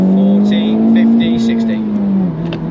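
A Honda Civic Type R GT hot hatchback engine holds loud, high revs during a launch with a steady strained tone that dips near the end. Someone talks over it.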